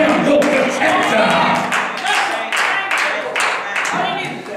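A church congregation claps steadily together in a dense, sustained round of applause, close and loud, with no talking over it.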